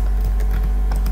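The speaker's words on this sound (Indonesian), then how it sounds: "Ini tekan Ctrl, klik." Keys and a mouse are clicked on a computer, a few light taps over a loud steady low hum, no voices.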